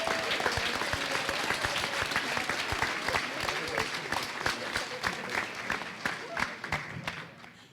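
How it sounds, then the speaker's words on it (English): Audience applause at a high school senior awards night, many hands clapping in a full, steady wash that thins into fewer, sharper individual claps toward the end, with some talk over it. "Let's give them a round of applause."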